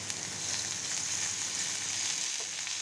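Chopped onions frying in mustard oil for a Bengali koi fish and pointed gourd curry, giving a steady, close sizzle that holds at an even level throughout with no talk over it.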